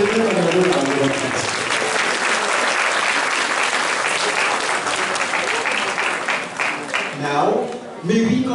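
Loud applause fills a political science association gathering in the Philippines, dense clapping from a large audience that thins toward the end as a voice comes in over the fading claps.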